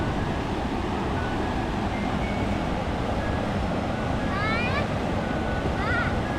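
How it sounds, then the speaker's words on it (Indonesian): Fast, swollen brown river current rushes with a constant dense roar after major flooding at Lubuk Minturun, close and unbroken, with a few faint high squeaks toward the end. "Aliran sungai cukup deras ini ya,"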